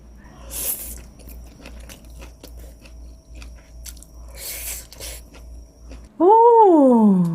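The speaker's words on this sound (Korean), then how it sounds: "요게 부드럽게 밥하고 어떻게 잘 넘어가는지 한번 먹어볼게" Someone eats seasoned sweet potato stems with rice, and the close-up bites and chewing make soft, irregular crunches and smacks. A brief voiced hum of enjoyment follows at the end.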